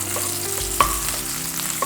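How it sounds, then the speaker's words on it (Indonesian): Chopped shallots dropped into hot oil in a pan, a bright steady sizzle with a sharp clink of a utensil partway through and light stirring, with no talking. "Jika minyak sudah panas, kita masukkan bawang yang sudah dipotong-potong"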